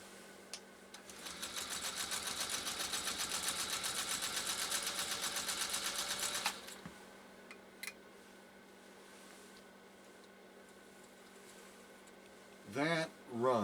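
A 1946 Singer 201-2 sewing machine stitches through saddle-grade leather in a steady, rapid mechanical whir with fine rhythmic needle ticking, running for about five seconds before stopping abruptly, followed by a few faint clicks and brief voices at the end.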